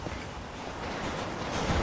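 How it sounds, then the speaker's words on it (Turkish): Steady rumbling roar of a passing train in Red Dead Redemption, a continuous broad rushing noise that swells slightly toward the end, with no voices. "Tren gidiyor."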